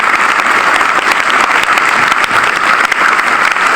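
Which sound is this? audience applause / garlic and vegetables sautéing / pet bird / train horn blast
audience applause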